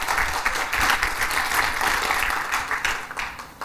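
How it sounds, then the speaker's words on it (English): An audience at a tech talk on the Wagtail CMS gives a round of applause, a full, even crackle of many hands clapping that holds steady and fades slightly toward the end. "Big round of applause for Eloise McDonald-Meyer."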